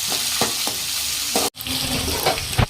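Thinly sliced onions frying in a pan, cooking toward golden brown, give a steady close sizzle with occasional stirring scrapes and clinks, no talking.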